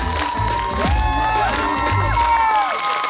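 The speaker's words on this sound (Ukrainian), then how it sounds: "Оплески" Cheering and applause from an audience after a Latin American solo dance performance at a sports dance club, loud and close, with high excited shouts and whoops from children and adults over clapping.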